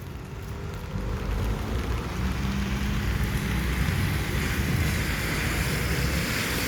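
Rain falls on a street in Armenia, Colombia, a steady broadband wash of hiss and patter that grows slightly louder after the first second and stays constant, with no talking.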